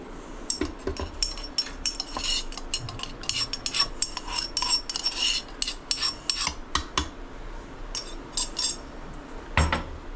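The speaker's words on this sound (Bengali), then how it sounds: "এখন আমি বাদামগুলোকে দেখুন এর মধ্যে মিশিয়ে নেব।" A spoon stirs crushed nuts into mango malai kulfi mixture, giving repeated scraping and clinking against the bowl at a steady, uneven rhythm, close and clear with no talking.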